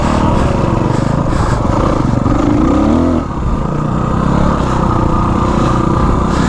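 KX and KTM dirt bikes ride rough trails on Rampart Range, a loud buzzing two-stroke-style engine revving up and down up close, with a short rising rev midway.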